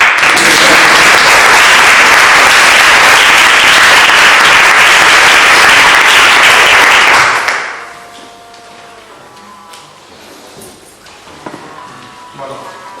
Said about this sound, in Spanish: ¿No aplaudimos?